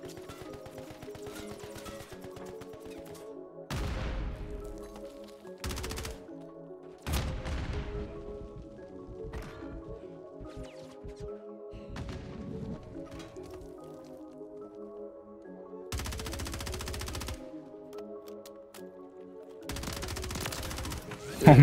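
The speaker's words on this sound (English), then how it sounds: "Oh, he has an LMG." Bursts of light machine gun fire from Modern Warfare 3 gameplay, several separate volleys of sustained rapid shots spread over the stretch, loud against a steady background of game music and ambience.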